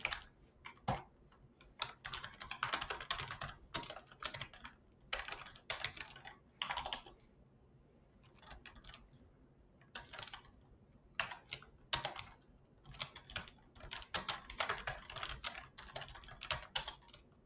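Steady bursts of clicking keystrokes on a computer keyboard while HTML code is typed in the Sublime Text editor, coming in quick runs separated by short pauses, close and fairly quiet, with no talking.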